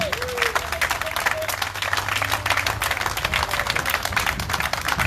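Audience applause at a public meeting, a steady dense patter of clapping that fills the whole stretch at moderate loudness, with faint voices mixed underneath.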